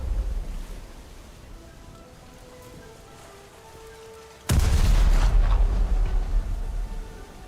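Naval gunfire from a warship in a naval combat video game, with an enemy frigate engaged: after a quiet stretch, a sudden loud broadband blast erupts and rolls on as a heavy, sustained rumble with no talk.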